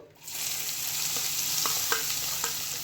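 Finely chopped onions drop into hot oil with cardamom and asafoetida for a Punjabi-style potato gravy, breaking into a loud, steady, close sizzle with a few light stirring clicks and taps.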